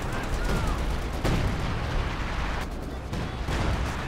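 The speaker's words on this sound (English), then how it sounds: "Here comes another zeroing artillery" Artillery shells landing in a Company of Heroes 2 battle, dense rumbling blasts and crackling impacts that run together loudly with no clear break.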